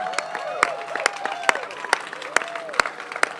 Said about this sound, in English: need a rousing round of applause from all of you.